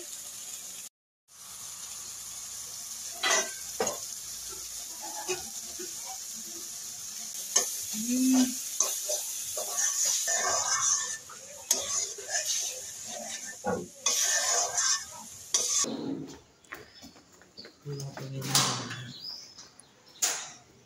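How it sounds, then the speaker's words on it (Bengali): Egg masala with turmeric, dried chilli, salt and oil sizzling in a pan while a spoon stirs and scrapes it in irregular bursts, close and moderately loud, with occasional clatter. "এখানে যে ডিমের মশলা বসানো হচ্ছে।"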